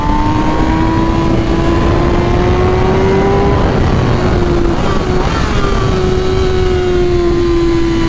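Tuned 2021 MV Agusta Rush motorcycle with a flashed ECU accelerating hard, a loud sustained engine roar with a rising and shifting tone throughout, close and dominant.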